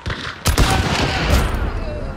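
Gunfire in the Hunt: Showdown video game comes as a sharp, loud blast followed by a second shot, with reverberant, noisy rumble filling the short stretch.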